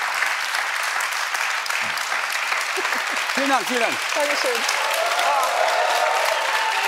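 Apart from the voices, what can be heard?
studio audience applause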